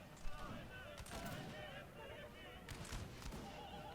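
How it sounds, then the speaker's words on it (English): Musket lines open volley fire in Napoleon: Total War during a battle at Hannover, sharp crackling bursts at intervals over a busy battlefield bed with horses whinnying and voices in the background, all fairly faint. "The lines have opened up fire"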